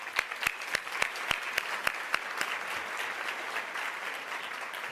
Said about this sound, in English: Let's give those women for being here today and for being disruptors and being innovators a round of applause